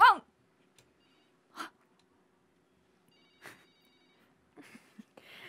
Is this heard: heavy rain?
no